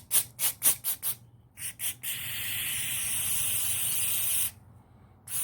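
Short bursts of CRC non-chlorinated cleaner sprayed into a Milwaukee 3/8-inch chrome ratchet, about eight quick hisses followed by one long steady spray lasting a couple of seconds, close and fairly loud with no talking.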